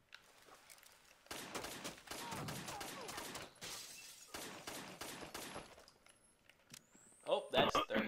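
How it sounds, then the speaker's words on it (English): Gunfire bursts crackle through a Rainbow Six Vegas firefight in several loud volleys of rapid shots, with a quieter lull midway and a sharper cluster of impacts near the end. "Where am I getting shot from?"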